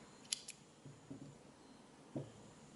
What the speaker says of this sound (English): you can cut off the yarn